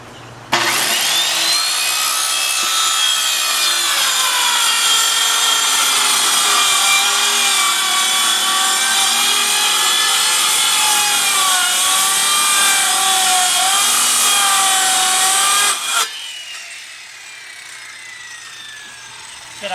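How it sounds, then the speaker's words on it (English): A skill saw cuts into a wooden board set to a shallow depth, about half an inch, while building a chicken coop; a loud, steady whining rip runs continuously for about fifteen seconds, then stops abruptly and spins down. "I've got this skill saw set so it's not going all the way into the board."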